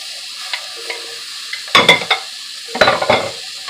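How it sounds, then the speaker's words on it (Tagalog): Tomato being stirred into rice frying with sausage in a pan: a faint sizzle punctuated by two bursts of scraping and clattering spatula strokes, close and brief, with no talking. "I-stir natin, i-mix natin ang ating tomato sa iba nating mga ingredients."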